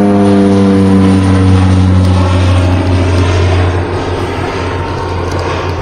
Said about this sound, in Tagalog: Ano ba itong aeroplano eh?